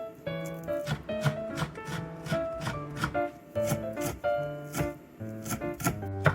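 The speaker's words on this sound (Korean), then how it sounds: "대파 2분의 1은 반 갈라 송송 썰어주세요." A knife slicing half a green onion, split lengthwise, into thin rounds for a stir-fried king oyster mushroom side dish: steady, close rhythmic taps on a cutting board, heard over background music.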